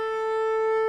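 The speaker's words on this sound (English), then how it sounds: "This is called the half string harmonic" A cello's half-string harmonic, stopped with the third finger: one steady, pure, whistle-like tone held for just under a second, clear and alone, with no speech.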